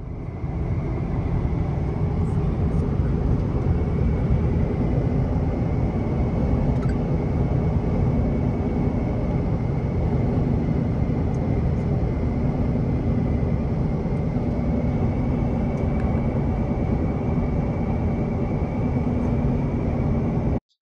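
SUV driving deep into the Dubai desert, heard as a constant loud engine and road drone, likely from inside the cabin, that holds steady throughout with no voices.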